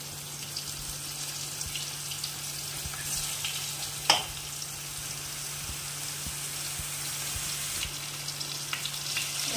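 Panch phoron spices and onion fry in hot oil with a steady soft sizzle throughout, a steady background hum, and one sharp clink near the middle, all without speech.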